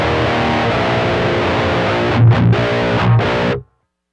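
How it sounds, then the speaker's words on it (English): A heavily distorted electric guitar with reverb and a drop-tuning effect plays loud, sustained chords, then several sharp rhythmic stabs, before cutting off abruptly into silence. "I'll toggle my reverb and the drop at the same time."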